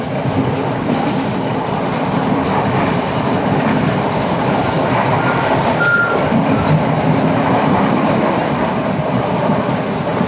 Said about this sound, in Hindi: सड़क और ट्रेन दोनों साथ मोड़ रहे हैं राइट पे